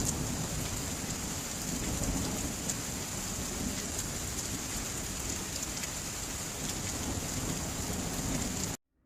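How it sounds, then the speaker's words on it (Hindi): Heavy rain pours down steadily with rumbles of thunder rolling underneath, a dense, continuous downpour that cuts off abruptly at the very end. "दोपहर होते होते बारिश थोड़ी कम हो जाती है।"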